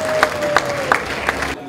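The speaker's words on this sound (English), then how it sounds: "Let's give a big round of applause for all of our awardees" A crowd applauds award recipients at a formal ceremony, steady clapping swelling with a few louder bursts over about a second and a half before cutting off abruptly.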